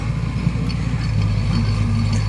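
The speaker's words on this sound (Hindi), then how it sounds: "देखा एक ट्रैक्टर खाली गड्ढा फाटत बा" A tractor engine rumbles steadily at low pitch while digging a pit to build a village cricket ground, a loud continuous drone with no voices over it.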